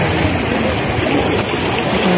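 Water flowing steadily at a waterfront promenade near a waterfall, a continuous loud rushing wash with no pauses and no voices.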